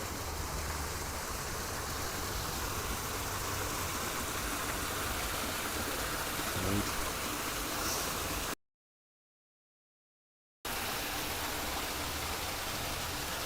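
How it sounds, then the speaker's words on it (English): A small waterfall on the San Antonio River Walk gives a steady, close rushing wash of falling water. It runs alone and without a break except for a short gap of dead silence near the end. "Got a little waterfall over here."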